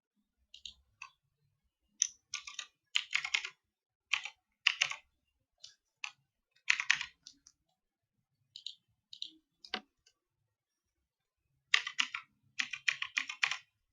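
Typing on a computer keyboard to enter a password, with close, crisp clicking keystrokes in irregular bursts and short pauses between them, loud and alone with no talk.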